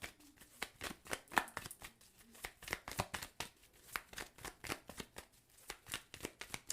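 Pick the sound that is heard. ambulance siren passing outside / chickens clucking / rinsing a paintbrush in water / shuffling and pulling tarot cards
shuffling and pulling tarot cards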